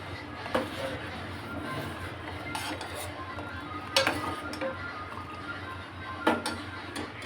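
A spoon scrapes and clinks against a pot of simmering basundi milk in a home kitchen, with a few sharp metallic knocks over a steady low background hum.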